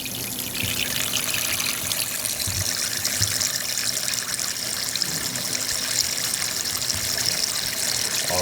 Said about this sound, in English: we want to fill this up a little bit till the water comes to about right where that crease is there